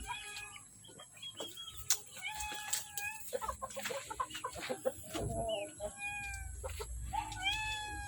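A Tanaka gamefowl rooster clucks and calls in a small backyard among other chickens, with a cat meowing in short bursts and crowing nearby, a person speaking at times in the background.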